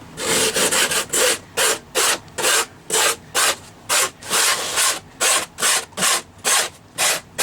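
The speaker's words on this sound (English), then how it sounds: "Here's a piece of sandpaper, rough. I don't know what grit this is. This is 50 grit. I'm just going to rough this up a little bit." Coarse 50 grit sandpaper is rubbed over foam board in about a dozen quick, even back-and-forth strokes, each a loud, close, dry scratchy rasp separated by short pauses, with no talking.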